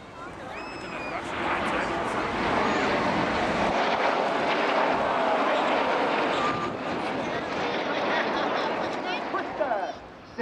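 RAF Red Arrows jets flying a 5-4 cross at the Blackpool Air Show, a broad sustained roar that swells and holds for several seconds, with a commentator's amplified voice over the engines and crowd.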